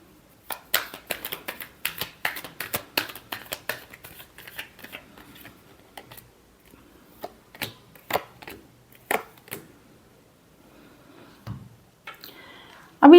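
Tarot cards being shuffled by hand in quick crisp riffling bursts, close up, with short pauses between rounds and a louder knock at the very end, no talking.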